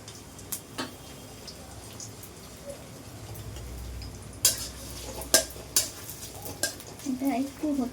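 Onions sizzle softly in a hot kadai while a utensil stirs and clinks against the metal in scattered sharp taps, a fish dish being prepared, with a voice speaking at moments.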